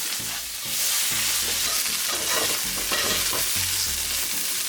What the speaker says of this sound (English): Now all of that ground provision that I cut before, I will now add it to the same pot.